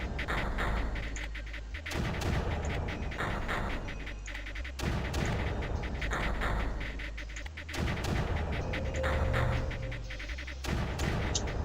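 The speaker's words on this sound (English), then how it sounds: "Mortar needs to keep firing for now." A mortar fires repeatedly in the strategy game Creeper World: deep booming thumps about every two seconds, loud and close, over a constant game drone with no talk.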